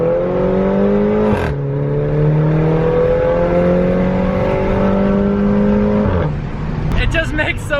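A car engine drives steadily with a smooth, rising tone and a brief shift partway through, loud and close, ending in a burst of faint clicks.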